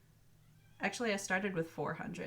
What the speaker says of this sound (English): I'm sorry if you can hear my cats meowing at the door.